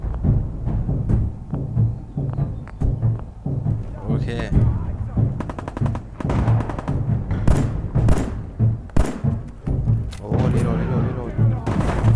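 Gunfire in the video game Fallout 4: many sharp shots and heavy thuds come in bursts throughout, loud and close, with a game soundtrack and someone talking over the shooting.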